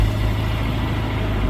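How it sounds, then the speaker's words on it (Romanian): A 2003 Audi A4 2.0 engine idles steadily just after starting, a close, even low rumble with a constant hum and no talking. "Motorul a pornit, este ok?"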